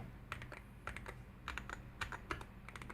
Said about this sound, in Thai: เราก็กดไล่ ไปทุกปุ่มให้เป็นสีเขียวให้หมด